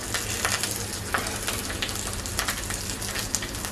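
Ground spices (coriander, chilli, cumin and turmeric powder) fry in a pan for moong dal with fish head, giving a continuous soft sizzle with faint crackles and occasional stirring, no voices.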